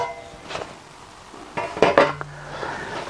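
A pan is handled in a kitchen, with a few sharp metallic clanks and knocks, the loudest cluster near the middle, over a quiet background.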